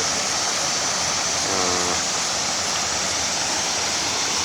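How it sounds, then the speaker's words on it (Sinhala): Continuous hiss of falling water from a small waterfall on the Madola river, even and fairly loud, with a faint low hum passing briefly in the middle. "දැන් තවත් සුන්දර ස්ථානයක් කුංචි දියැලක් සහිත"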